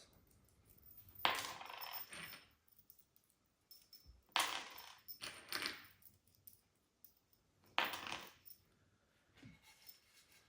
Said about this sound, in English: Take the nuts and the washers off on my bolts.